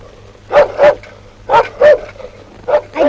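A dog barks in short paired bursts, three clusters of sharp, fairly close barks separated by brief pauses over a low background hum.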